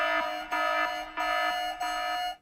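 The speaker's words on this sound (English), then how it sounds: "Oh, it's an alarm clock, yeah. Sounds like an iPhone alarm." A phone-style alarm clock, like an iPhone alarm, rings in a film: a bright repeating electronic tone in four even pulses, loud and clear with no talking over it.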